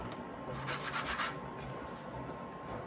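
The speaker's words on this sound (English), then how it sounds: "So I just have a sanding block," A sanding block roughs up a cured resin surface so mica powder will stick, giving a soft, steady rasping rub that swells briefly in the middle, quiet and close with no talk.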